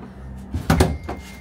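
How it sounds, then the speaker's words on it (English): A motorhome bathroom door swings shut, a close wooden thud and rattle of the latch in two quick impacts followed by a softer knock, in a small enclosed space. "Now close the door."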